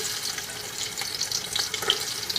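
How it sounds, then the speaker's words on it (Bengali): Sliced onions frying in hot oil in a pan, a continuous soft sizzle with small crackling pops, fairly quiet and close, no voices. "মধ্যে পেঁয়াজটা পড়ার পর যেটা শব্দ হয় ভীষণ সুন্দর একটা শব্দ।"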